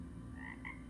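A button-activated toy frog gives two short electronic croaks, one after the other, fairly clear over a steady low background hum, with no voices.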